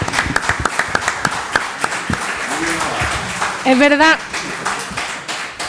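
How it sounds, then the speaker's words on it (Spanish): Scattered, sparse clapping from a small conference audience, individual claps distinct and fading, with someone speaking and another voice chiming in over it. "un fuerte aplauso, por favor"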